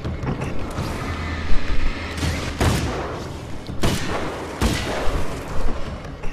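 Gunfire in the video game Alan Wake's American Nightmare: several loud, sharp shots crack out at irregular intervals over a dense, rumbling game soundscape.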